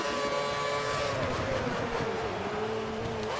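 A Formula 1 car engine in the racing video game F1 2013 at the Singapore Grand Prix drones steadily at high revs, its pitch sliding down and then holding, loud and continuous without talk.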